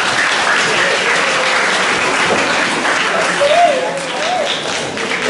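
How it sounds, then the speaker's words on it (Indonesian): A school audience of students and teachers applauds presenting classmates, giving a dense, steady round of clapping close and loud throughout, with a voice briefly rising over it near the end. "Oke, kita berikan aplaus dulu untuk teman-teman kita."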